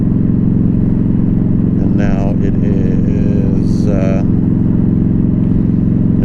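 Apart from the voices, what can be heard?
Yamaha V Star 1300 motorcycle with Freedom Performance exhaust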